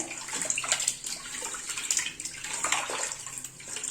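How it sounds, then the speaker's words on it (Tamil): Hands swishing and turning fish pieces in a bowl of salted water, a close, continuous sloshing and splashing with small clinks throughout and no talking. "இந்த மாதிரி நல்லா மீனை வந்து நல்லா திருப்பி திருப்பி வாஷ் பண்ணணும்"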